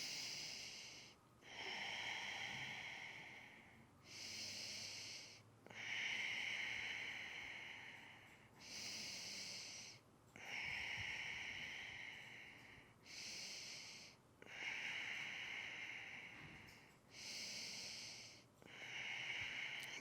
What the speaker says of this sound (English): We'll take another 5 deep breaths here.